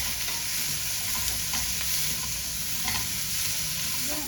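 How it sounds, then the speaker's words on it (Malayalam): Sliced okra with turmeric sautéing in a hot pan, a steady close sizzle with occasional scraping stirs of a spoon, continuous and even throughout, no voices. "ഇനി ഇതൊരു മിനിറ്റ് നന്നായിട്ടൊന്ന് വഴറ്റിയെടുക്കാം"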